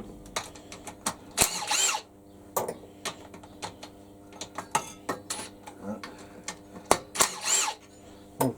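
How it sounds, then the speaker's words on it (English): A cordless drill driver whirs in short, repeated bursts while working on a rat rod car, interspersed with clicks and clatter of handled parts and tools nearby. "Oh, drill driver's handy, isn't it?"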